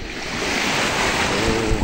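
Mediterranean Sea waves wash steadily onto the shore near a boat area on a cool morning, a continuous close roar of surf with some wind buffeting the microphone.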